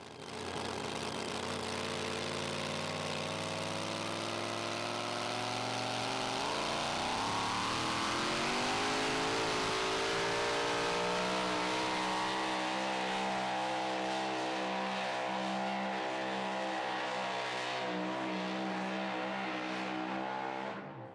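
Super modified two-wheel-drive pulling truck at a 2014 pro pulling event, its engine roaring loud and continuous for about twenty seconds, pitch climbing sharply as it revs and then holding a sustained high-power drone.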